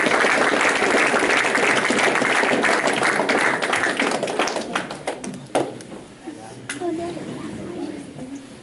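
Banquet audience at a high school football awards night applauding loudly in a dense, sustained burst of clapping that thins out into scattered claps and a few chatting voices near the end.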